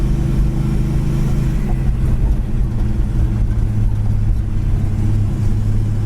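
A 1970 Plymouth Road Runner's engine while driving, a loud, steady low rumble with a deep throaty hum held evenly throughout, close up and with no speech.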